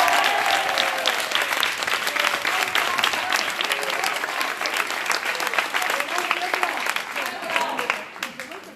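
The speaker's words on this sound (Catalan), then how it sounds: "vull demanar un fort aplaudiment per tots els professors i per tots nosaltres" Sustained audience applause for the teachers and graduates at a high school graduation ceremony, a dense, steady wash of many hands clapping at close range for the whole stretch.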